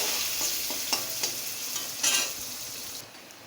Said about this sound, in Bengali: পেঁয়াজটা দিয়ে একটু লাল লাল করে ভেজে নেব।